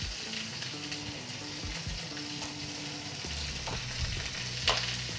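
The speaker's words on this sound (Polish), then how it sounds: "Druga partia ogonów się podsmaża" Pork tails fry in a pan with a soft, continuous sizzle and crackle, fairly quiet and close, broken by occasional small clinks and stirring, with no speech.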